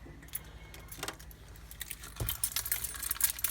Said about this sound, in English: And where did I put those keys? Wrong keys, sorry.